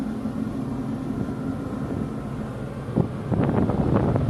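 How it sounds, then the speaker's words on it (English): Wind buffets the microphone on the open deck of an overnight ferry in Japan, a steady low rumbling roar that thickens into stronger gusts near the end. "No, it's windy on both sides."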